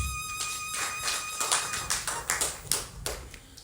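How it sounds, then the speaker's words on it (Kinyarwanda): Applause from a church congregation at a Sunday service, scattered hand claps swelling into a dense, moderately loud patter with sharper individual claps toward the end. "Kadukomereye amashyi"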